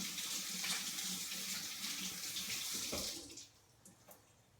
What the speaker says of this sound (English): Just gonna rinse it off, and then I'll cut it up and throw it in there.